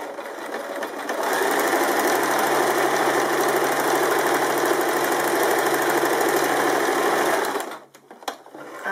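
A sewing machine fitted with a pintuck foot stitches a pintuck row, a fast, even mechanical whir that runs steadily for several seconds before stopping.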